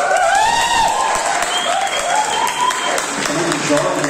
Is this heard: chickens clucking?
no